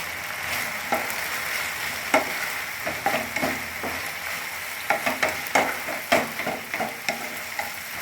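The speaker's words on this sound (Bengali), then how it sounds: "এবারে একটু নাড়াচাড়া করে আমি ভেজে রাখা পাউরুটিগুলো সব দিয়ে দেবো।" Spicy sauce for chilli bread being stirred in a hot pan, a steady sizzle with repeated scraping spatula strokes in an uneven rhythm, close and moderately loud, no voices.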